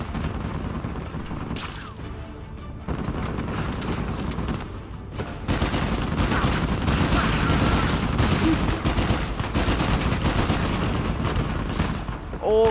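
Gunfire fills a scene in the PS4 action game Uncharted 4, with a dense, sustained fusillade of shots and explosive bursts that grows louder and busier partway through, and faint voices mixed in.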